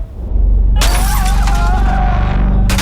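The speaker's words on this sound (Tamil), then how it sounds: "கார் கண்ணாடியெல்லாம் அடிச்சு நொறுக்குறாங்க சார்" Car window glass smashed and shattering, a loud crash followed by sustained tinkling, crunching breakage over a low rumble, with a second burst at the end.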